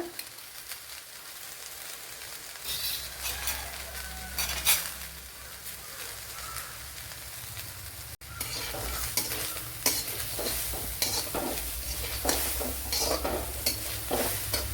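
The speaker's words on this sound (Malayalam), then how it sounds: "ഒരു പച്ചമുളക് മൂന്ന് പച്ചമുളക് അതൊന്ന് കട്ട് ചെയ്ത് ചേർത്ത് കൊടുക്കുക" Cut green chillies and cumin fry in a pan for a bitter gourd podi, a continuous close sizzle with repeated spoon scrapes and stirring clatter, growing louder halfway through, with no talk.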